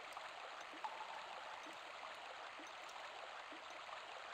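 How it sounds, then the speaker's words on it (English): A flowing stream in the Grandia HD video game babbles steadily as a soft, continuous water wash, faint and even, with no voices over it. "I hear water."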